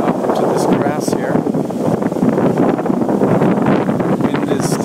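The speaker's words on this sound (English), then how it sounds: "Wind is still blowing." Strong wind buffets the microphone on a storm-battered beach after Hurricane Sandy, a loud continuous roar and rumble with a few brief higher rustles.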